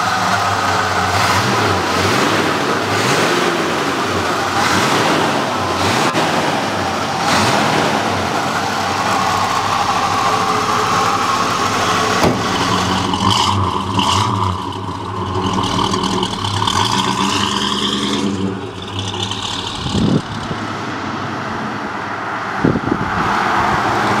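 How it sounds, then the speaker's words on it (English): A 1971 Oldsmobile Cutlass SX455 convertible, a 442 clone with a 455 V8, runs loudly and steadily close by, with rising revs and shifting engine tone as it drives off, and no talk. "All right, let's take this 442 clone for a drive."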